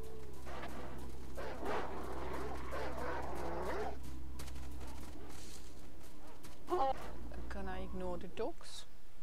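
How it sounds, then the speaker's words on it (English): Dogs bark and whimper in the Lost Alpha game's dark tunnels, a few sharp yips and barks standing out over a constant low hum, with a voice talking over much of it. "dogs."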